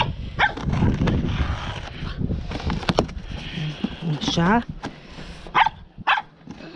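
Dogs barking in short, scattered bursts at moderate distance, mixed in under a person speaking Romanian in a domestic setting.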